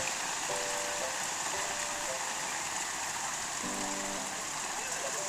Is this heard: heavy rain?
yes